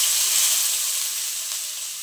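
Chopped onion frying in hot oil with green cardamom and cinnamon pieces, a steady bright sizzle and hiss close up, continuous and unbroken with no talk.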